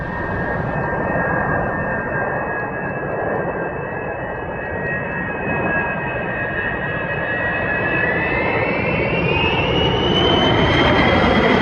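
Small airplane at a short takeoff and landing (STOL) competition in Alaska, a loud, close, steady engine drone with a whining tone that rises in pitch toward the end.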